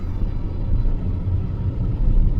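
Van creeping through a traffic jam, a low continuous engine and road rumble heard from inside the cab, steady and fairly loud with no talking.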